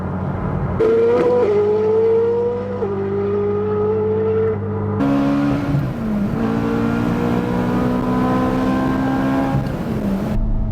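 Koenigsegg Jesko supercar engine revving hard, its rising pitch climbing then settling into a strong sustained drone with a second louder surge partway through, close and loud without any talking.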